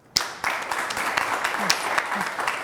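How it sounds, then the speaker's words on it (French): After a brief quiet start, an audience breaks into applause at a youth-focused public talk in Rwanda, clapping steady and moderately loud with scattered voices mixed in. "J'aimerais qu'on applaudisse."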